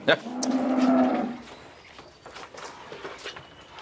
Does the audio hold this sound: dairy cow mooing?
yes